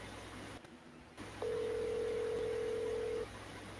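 On an outgoing telephone call, a single steady ringback tone sounds for about two seconds after a short silent gap, then stops, over faint line hiss.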